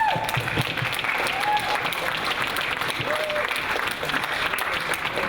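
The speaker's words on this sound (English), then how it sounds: "So I would like to get some applause for all the teams." Audience at a sports and activities colours awards ceremony gives a continuous, loud round of applause that stays even throughout, with faint voices mixed in.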